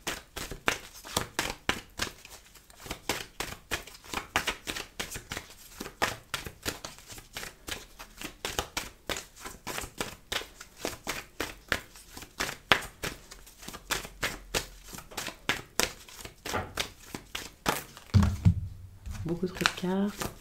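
A deck of tarot cards is shuffled over and over in a dense, rapid flutter of crisp snaps and riffles, close and continuous, with brief soft speech near the end.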